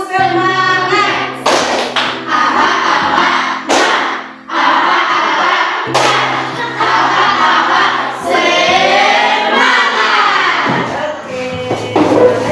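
A classroom of students claps and stamps together in rhythmic bursts, loud and close, with shouted group chanting in between the claps.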